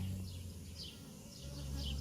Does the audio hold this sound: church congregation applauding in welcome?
no